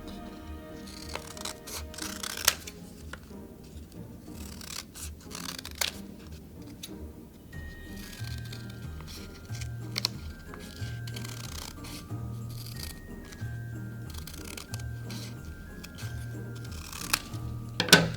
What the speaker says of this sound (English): Now cut out your shape.